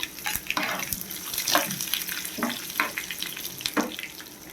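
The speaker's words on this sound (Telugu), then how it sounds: "ఆయిల్ అయితే హీట్ వచ్చేసింది ముందుగా జీలకర్ర అయితే వేసుకున్నాము అలాగే ఆవాలు అలాగే కరివేపాకు ఎండుమిర్చి" Cumin, mustard seeds, curry leaves and dried chillies frying in hot oil, a loud, close crackle with repeated sharp spattering bursts and stirring, no voices.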